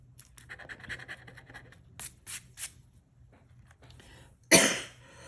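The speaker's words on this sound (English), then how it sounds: "Sorry about coughing." Several short coughs and throat-clearing bursts, close and fairly quiet, with light rustling between them and a sharper, louder cough near the end.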